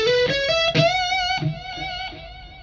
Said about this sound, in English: Suppose you want to create a cool sounding delay that sounds like this.